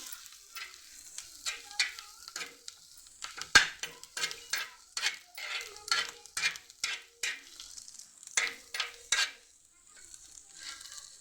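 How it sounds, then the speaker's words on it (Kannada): Chutney frying in hot oil in a pan with fresh oil added, a steady close sizzle broken by repeated scraping stirs and occasional sharp clinks of the spoon against the pan, with no voices. "ಇನ್ನೊಂದು ಸ್ವಲ್ಪ ಎಣ್ಣೆ ಹಾಕಿ ಹುರ್ಕೋತಾ ಇದ್ದೀನಿ"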